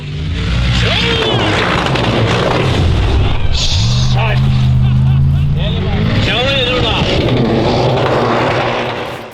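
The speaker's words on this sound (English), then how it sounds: "Formula Off-Road, driving on water." A Formula Off-Road race car roars as it drives across water, its engine revving loudly and continuously with rising and falling pitch, splashing spray throughout, and a voice speaking over it.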